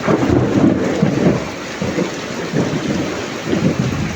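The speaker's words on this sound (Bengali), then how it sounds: "অনেক বৃষ্টি হইতেছে" Heavy rain pours steadily in Malaysia, loud and close, as rolling thunder rumbles beneath it with no voices.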